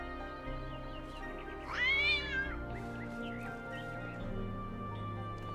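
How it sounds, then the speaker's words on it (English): A cat in The Talos Principle II gives a single clear, rising-and-falling meow midway through, close and distinct over a steady low ambient hum. "Ah, there's a cat."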